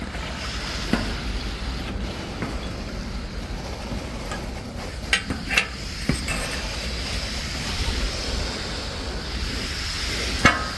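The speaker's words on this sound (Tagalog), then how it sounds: "ayan, binuksan na yung tubig" Water rushing through a pipe after the supply is turned back on at a repaired leaking pivot fitting, a steady broadband hiss and gush with a few brief clanks and knocks along the way.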